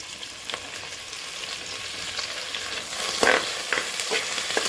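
Coriander and mint fry in a pan for coconut milk rice, a steady hiss of sizzling oil with occasional stirring knocks and one louder burst near the end, nearby and without speech.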